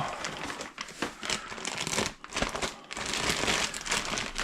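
Packaging being unwrapped near the microphone, a steady run of close crinkling and crumpling with brief tearing crackles, continuous throughout with only short lulls.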